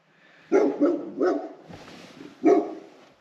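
Dogs barking at a beekeeping site in October, a few loud, close barks in separate bursts with a short gap between them, and no talking.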